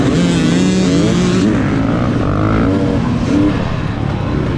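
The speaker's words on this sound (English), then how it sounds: "I'm on a 2022 KTM 300 XCW" A 2022 KTM 300 XC-W two-stroke dirt bike races through a hare scramble, its engine buzzing loud and close with rising and falling revs as the rider shifts and accelerates, steady throughout with no talking.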